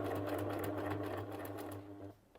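Sewing machine stitching steadily through fabric, running forward over the first stitches and then backstitching, with a constant motor hum and rapid needle rhythm that winds down near the end.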